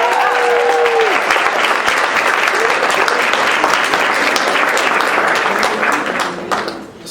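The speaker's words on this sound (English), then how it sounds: "How about a giant round of applause for this awesome wait staff and hotel staff?" A large audience of Texas student leaders applauds the wait staff and hotel staff at a banquet, loud sustained clapping with a few whoops and voices early on, tapering off at the end.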